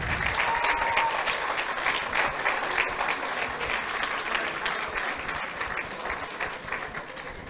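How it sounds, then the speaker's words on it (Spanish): Sustained applause from an audience at an award presentation for a talk on waterways and flooding, steady dense clapping that fades slightly toward the end, with no talk over it. "Y renovamos el aplauso para ellos."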